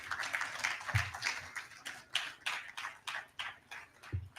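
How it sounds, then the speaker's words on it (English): An audience at the 18th Africa International Housing Show gives a speaker another round of applause. Faint, fairly sparse claps patter in a quick, uneven rhythm, sounding distant and thin. "give him another round of applause"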